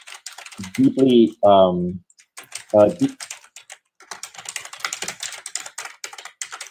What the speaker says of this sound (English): The typing is so loud.